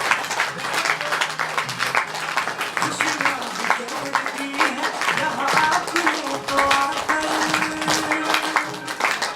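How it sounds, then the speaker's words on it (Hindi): An audience claps along with a devotional-style welcome song at a gathering. The clapping is dense and continuous over sung melody and voices, holding fairly loud from start to finish. "गीत के साथ ताली बजाते रहो"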